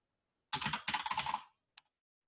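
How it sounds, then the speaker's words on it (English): A short command typed on a computer keyboard, with a quick, close burst of clicking keystrokes lasting about a second, then a single final key tap after a brief pause. "You can type SQ."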